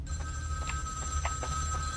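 A phone rings steadily in a video game, its electronic tone held for the whole stretch over a low hum with a few soft clicks.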